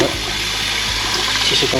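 Water runs steadily from a kitchen tap while cold water is changed over boiled chayote, a continuous close hiss and splash with no pauses.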